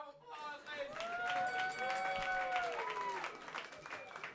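Crowd applause and cheering at a comedy roast battle swell under an emcee's voice, a continuous fairly loud clapping wash behind the talk.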